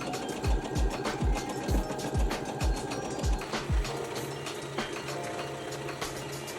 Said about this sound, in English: And now we are going to start sewing from the center point